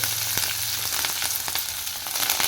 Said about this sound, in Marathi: तेल गरम झाले जिरे मोहरे टाकूया